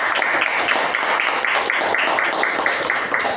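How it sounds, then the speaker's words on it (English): Audience applause at a Toastmasters meeting, recognizing participants and contest winners; steady, dense clapping fills the short stretch at even loudness with no speech over it. "let us recognize all these participants and winners with a good round of applause."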